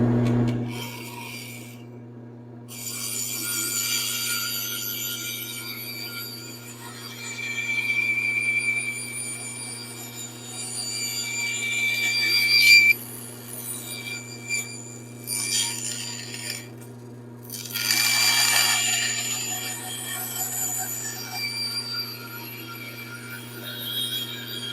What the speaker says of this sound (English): now I've got it where the bandsaw can't roll it out of my hands, and we should be able to make a good safe cut